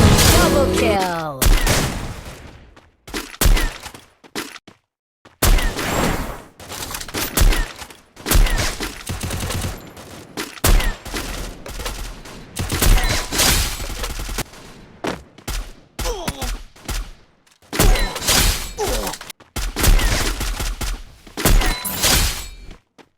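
Rifle fire in the PUBG video game rings out in repeated loud bursts and single cracks, separated by brief quiet gaps, with some talk mixed in.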